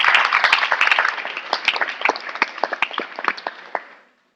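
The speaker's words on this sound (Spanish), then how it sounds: "Dale un aplauso al Señor." Applause from a church congregation at a pastors' fellowship gathering, dense clapping that thins into scattered individual claps before stopping abruptly.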